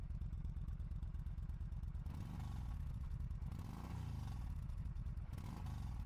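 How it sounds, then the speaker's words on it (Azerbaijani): A Yamaha motorcycle engine runs close by with a steady, throbbing low rumble that stays loud throughout, with slight shifts in tone midway and no voices. "Motosikletin səsinə qulaq asaq."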